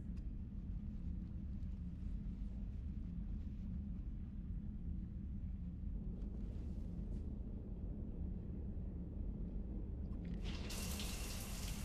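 Shower water runs in a steady hiss with a low rumble in the Mass Effect 3 video game, constant throughout, with a brighter splashing burst near the end.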